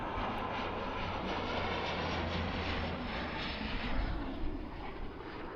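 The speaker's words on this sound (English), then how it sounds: "There's a plane coming here." A fixed-wing airplane passes overhead with a steady, loud engine roar that fills the whole stretch, heard outdoors in Vancouver during a run in fine weather.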